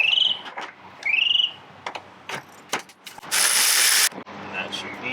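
A ratchet with an extension clicks as it undoes headlight bolts on a Honda S2000, giving short bursts of rapid metallic ratcheting and a few scattered knocks and taps, close and fairly loud.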